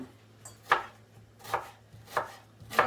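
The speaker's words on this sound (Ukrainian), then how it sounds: "А також напівкільцями нарізаємо цибульку." A knife slicing onion into half rings on a cutting board for an asparagus bean dish: four evenly spaced crisp chops against the board over a low steady hum, close and clear, with no talking.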